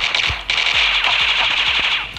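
Rapid automatic gunfire in the mobile shooter game Critical Ops, played on a Zenfone 4: loud bursts of evenly spaced shots, about eight cracks in quick rhythm over a steady hiss, with no talking.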